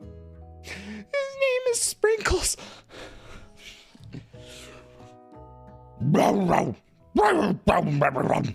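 A scruffy little dog barks in a video game, several sharp barks arriving in quick bursts near the end, with people talking before and between them.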